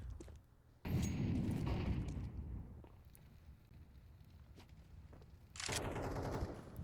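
Rapid automatic gunfire from a Counter-Strike match on the Mirage map, loud sustained bursts that taper off, then a second burst of shots near the end, heard alone without talk.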